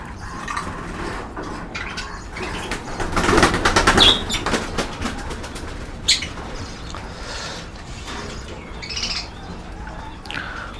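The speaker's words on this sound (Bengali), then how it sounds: "প্রতিটা পাখি খেতে নেমে গেছে এবং খুবই পছন্দ পছন্দর সাথে খাচ্ছে এরা" Pet birds, including a pair of cockatiels, feed on soft food while calling with chirps and squeaks, with a burst of wing flapping and fluttering near the middle; close and moderately loud.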